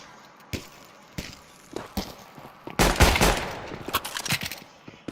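Pistol gunfire in the video game Counter-Strike during a pistol round: scattered sharp shots, first single and spaced, then a quicker burst of several in succession, fairly close.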